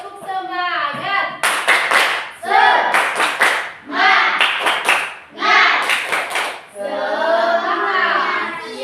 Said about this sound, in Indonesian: Tepuk semangat lagi dulu.